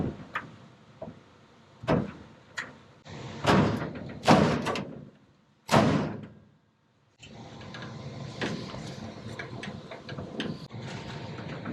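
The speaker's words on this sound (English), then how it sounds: "The door opens, closes, and latches." Hot rod car door opening, closing and latching, with several sharp slams and thuds spread over the first six seconds, then steady background noise.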